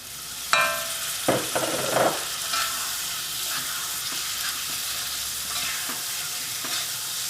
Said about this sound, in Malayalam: ഇത് നന്നായിട്ടൊന്ന് മിക്സ് ചെയ്ത് കഴിഞ്ഞിട്ട് നമുക്ക് ഇതിലേക്ക് തക്കാളി ചേർക്കാം